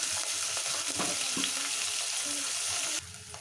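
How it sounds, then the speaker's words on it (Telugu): Cinnamon, curry leaves and onions frying in a pan for a drumstick curry, a dense close sizzle with a few stirring knocks, cutting abruptly quieter near the end. "చెక్క వేస్తున్నాను అవి కొంచెం ఫ్రై అవుతున్నాయి కదా"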